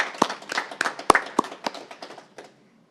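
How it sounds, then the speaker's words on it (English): A short burst of hand clapping from a small group at a council meeting, brisk and close, tapering off and ending abruptly into silence. "You deserve a round of applause"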